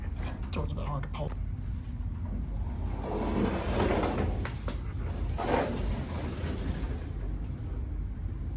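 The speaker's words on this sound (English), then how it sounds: "Door's a bit hard to pull." The heavy door of a vintage Otis bottom-drive freight elevator is pulled open, giving a grinding, rumbling slide with clanks and scrapes, under steady background noise and a nearby voice.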